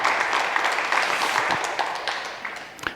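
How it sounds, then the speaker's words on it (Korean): A church congregation at a Sunday worship service at Dunsan Seonggwang Church applauds together, a dense roomful of clapping that holds steady and then fades toward the end. "여러분들이 박수로 함께 격려해 주시면 좋겠습니다"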